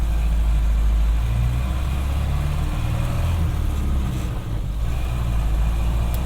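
A 1931 Ford Model A Coupe engine drones steadily while driving, a loud, close, continuous low rumble with no voices, dipping slightly for a moment near the end.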